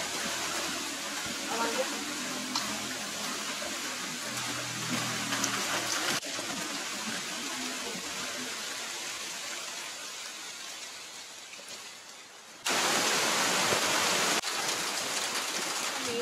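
A forest stream in Khao Sok, Surat Thani, Thailand, flowing as a steady soft rush of water that is fairly faint, with a brief louder surge near the end.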